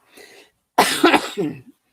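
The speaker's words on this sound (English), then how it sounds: "I do have a crazy cough that started up" A single person coughs sharply a few times in quick succession, close up, after a faint breathy sound.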